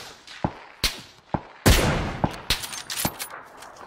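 Rapid gunshots from the battle-royale game PUBG ring out in sharp separate cracks, then a louder, heavier blast followed by a flurry of quick shots, fairly close and alone without talk.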